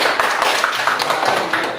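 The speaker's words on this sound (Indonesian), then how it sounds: "tepuk tangan untuk kelompok Mangga" A class of students claps for a student group, a dense, fairly loud patter of many hands that lasts throughout.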